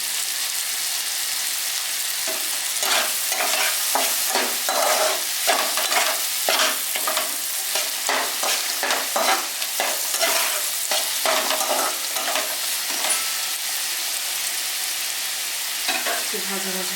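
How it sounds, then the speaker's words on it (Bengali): Chopped onions fry in hot oil in a pan with bay leaf and green chillies, a steady close sizzle broken by frequent scraping stirs throughout, with no talking. "এটাকে এবার একটু ভাজা ভাজা করবো পেঁয়াজটাকে।"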